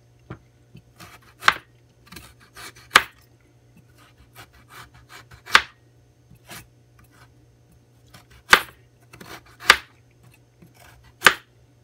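A knife slicing thin pieces of cooked corned beef, a series of separate soft scraping cuts spaced a second or so apart, close and quiet against a low background hum.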